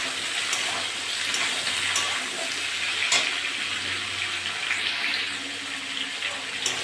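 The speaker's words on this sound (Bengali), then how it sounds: "বেগুনগুলো দিয়ে একটু নেড়ে চেড়ে নিয়েছি, একটু নেড়ে ভেজে নিয়েছি।" Eggplant frying in a pan together with already-fried potato and pointed gourd, a steady dense sizzle with faint stirring and one sharp tap, close by and without talk.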